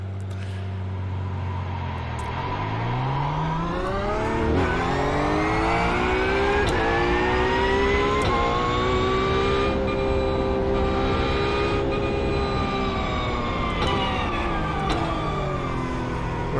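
A Porsche race car in the iRacing game at Laguna Seca revs and accelerates through the gears, its engine whine climbing and holding high and loud throughout, with no talk.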